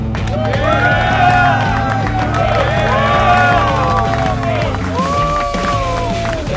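A studio audience cheers and applauds a wrestling journalist guest as he comes on, loud clapping and whoops mixed with crowd babble and music, with some voices shouting amid the noise.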